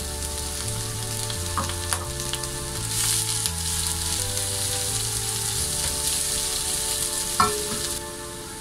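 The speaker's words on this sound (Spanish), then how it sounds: "un poco de aceite esperamos a que caliente un poco Le vamos a, a sofreír la cebolla" Chopped onion sautés in hot oil in a pan, a steady, close sizzle holding for the whole stretch with a few sharper crackles and a soft musical backing underneath.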